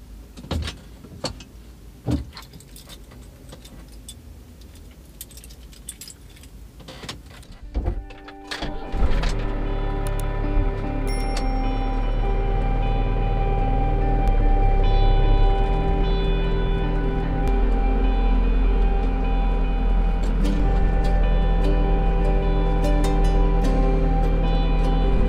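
A camper van with a freshly repaired exhaust starts out with scattered clunks and knocks inside the cabin. A steady, loud, low engine rumble then builds and holds as it drives along mountain roads in southern Spain.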